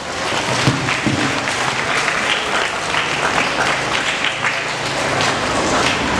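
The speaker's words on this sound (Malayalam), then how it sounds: "എല്ലാവരും നല്ലൊരു കൈയടി കൊടുത്ത്." Sustained applause from a large audience at a school opening-day celebration, steady dense clapping throughout with a faint murmur of the crowd beneath.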